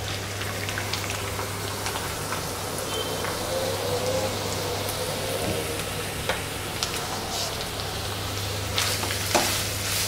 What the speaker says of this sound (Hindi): गाजर डालकर इसको हल्का सा भूनना है, बहुत ज़्यादा पकाना नहीं है।